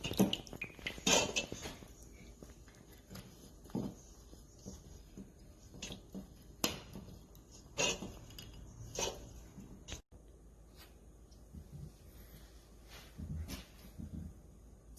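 Pizza dough ingredients being mixed in a bowl, heard as quiet, irregular clinks and knocks of a utensil against the bowl with soft squishy scraping between them, close and faint.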